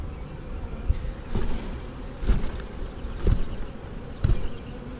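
A swarm of honey bees being dumped into a hive box outdoors, a dense steady buzzing hum with wind noise and several soft thumps and knocks from the box.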